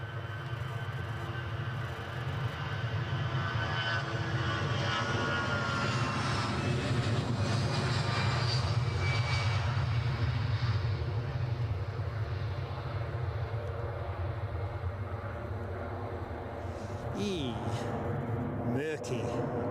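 Jet aircraft engines roar steadily at Edinburgh airport, a sustained loud rumble that swells and fades over about twenty seconds, with a voice speaking near the end.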